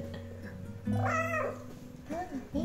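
A cat meows a couple of times up close, one drawn-out cry followed by shorter ones, with soft background noise.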